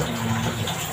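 Water gushes steadily from a tap or shower during a morning bath, a loud close continuous rush with no pauses.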